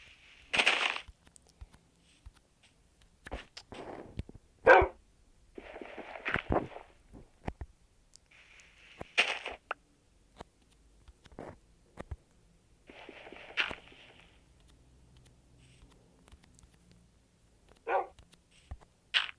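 Several short, sharp dog barks from a Minecraft game in bursts with gaps of quiet between them, mixed with a few soft thuds and rustles.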